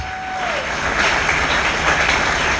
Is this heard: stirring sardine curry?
no